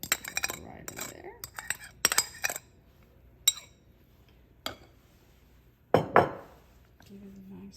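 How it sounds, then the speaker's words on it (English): Utensil stirring an egg and sugar mixture in a bowl for chocolate apricot cranberry squares, giving scattered clinks and taps against the bowl with quiet gaps between them, close and fairly soft. "Give it a nice little stir."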